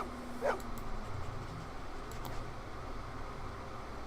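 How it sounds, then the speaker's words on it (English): A dog in the Blade Runner video game gives a sharp whimper followed by a faint yip, heard once near the start against a low steady background hum, with no talking. "Who's the best dog in the whole world?"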